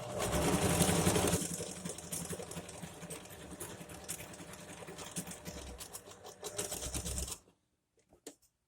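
A sewing machine stitching over a pin in fabric, a fast steady mechanical whir running for about seven seconds before stopping, followed by a few faint clicks.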